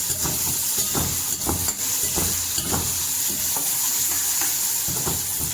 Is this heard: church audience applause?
no